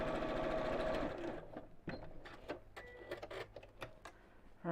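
A domestic sewing machine runs a steady, fast stitching whir while four fabric pieces are joined into a square, then stops, leaving scattered soft clicks and handling taps close by.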